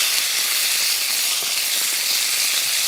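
Salmon fries skin-side down in a hot pan, giving a steady, even sizzle and hiss that carries on unbroken, with no voices over it.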